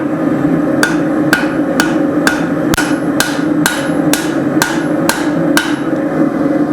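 A cross peen hammer rings sharply on hot steel as a micro hatchet is forged, about eleven evenly spaced metallic strikes over a steady background hum.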